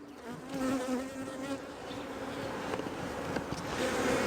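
Honey bees buzz steadily from an opened queen-rearing beehive, a dense, close, continuous drone with slight swells in loudness and no voices.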